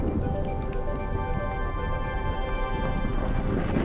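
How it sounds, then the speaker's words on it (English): Hail and rain falling in a Colorado mountain thunderstorm while backpacking, a steady dense patter of drops close by, continuous and fairly loud throughout with no voices. "That is all hail you see on the mountainside."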